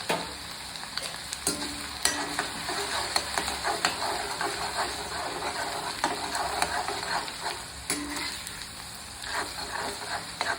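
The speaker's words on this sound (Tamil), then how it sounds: "இந்த எண்ணெய் காஞ்ச உடனே நம்ம கட் பண்ணி வச்ச பூண்டு இதையும் போட்டுட்டு, சின்னதாக கட் பண்ணி வச்ச இஞ்சி இது ரெண்டையும் போட்டு" Chopped garlic and ginger frying in hot oil, a steady crackling sizzle with scraping stirs of a spoon in the pan, moderately close and with no voices.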